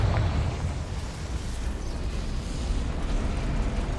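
Confringo spell explosion in Hogwarts Legacy: a loud, rumbling blast that rolls on as a continuous heavy roar for several seconds, close and full, with no voices over it.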